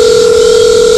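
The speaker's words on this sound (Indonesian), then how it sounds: "Aku mau telepon kawanku yang polisi dulu, Cil." A telephone line tone sounds while a call is placed to a friend who is a police officer: one loud, steady, unbroken electronic tone lasting about a second, heard alone.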